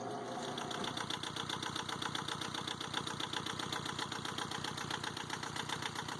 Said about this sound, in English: We'll go ahead and start the engine and see if it runs.